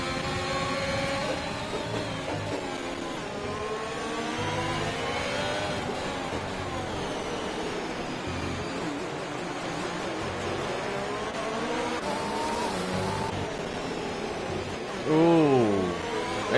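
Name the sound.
race cars racing in a sim racing video game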